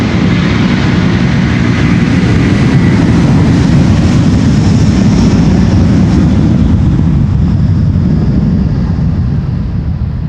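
A Delta Airlines airliner on flight 163 to Minneapolis takes off from Schiphol's Polderbaan runway 36L, its engines a loud, steady broadband roar with a deep rumble that holds for the full ten seconds and never lets up.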